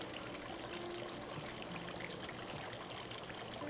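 Tequila pours in a continuous, soft liquid stream into a measure or glass for a strawberry margarita, faint and steady throughout with no talk.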